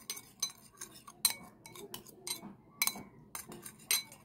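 Aloe vera and honey face mask being mixed in a small bowl, a spoon clinking and scraping in quick irregular taps, close and fairly soft, with no talking.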